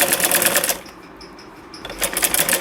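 Sewing machine stitching a salwar hem, a fast mechanical whir that runs loud, drops away briefly in the middle, then resumes.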